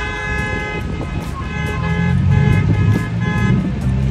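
Car horns toot repeatedly in heavy Bucharest city traffic, several short honks over a rumbling engine and road noise that swells louder midway through.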